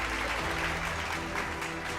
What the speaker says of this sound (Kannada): ಒಂದು ಜೋರ ಚಪ್ಪಾಳೆ ಬರಲಿ ಸರ್